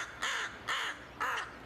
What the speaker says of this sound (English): Crows do a lot of damage